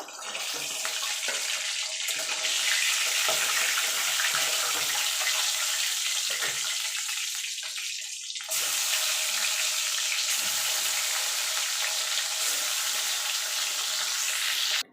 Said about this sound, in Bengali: আমি বাকি কই মাছগুলো ভেজে নেব